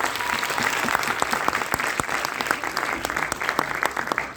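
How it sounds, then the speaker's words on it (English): Audience applause for participants at a college prize-distribution ceremony, steady dense clapping from a crowd lasting throughout, fairly loud and close. "I think we should give a good round of applause to all the participants"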